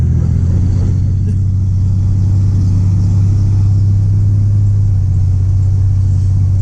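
A 1987 Chevrolet S10 pickup cruises along a street, heard from inside the cab as a loud, steady low engine rumble and road drone with no pauses.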